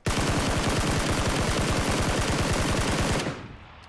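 Rapid automatic gunfire from a PUBG firefight, a loud continuous burst of evenly spaced shots lasting about three seconds before cutting off abruptly into near silence.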